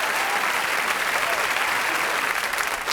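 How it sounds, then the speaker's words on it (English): Studio audience applause on a comedy improv show, a dense, steady wash of clapping from a large crowd that holds loud and close for the full three seconds. "They get a lot of claps here."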